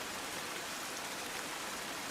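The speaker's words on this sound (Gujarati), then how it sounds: "વઢવાણ સહિતના ગ્રામ્ય વિસ્તારોમાં ધોધમાર વરસાદ ખાબક્યો" Heavy downpour over rural Wadhwan in Gujarat, a dense, steady hiss of rain on surfaces that holds evenly without a break throughout.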